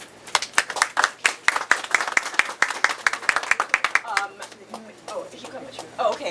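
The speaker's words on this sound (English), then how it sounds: "So I wanted to applaud them." A seated audience at an OECS free-movement talk in Antigua and Barbuda breaks into dense, brisk applause that thins out after about four seconds into scattered claps, with a few voices murmuring near the end.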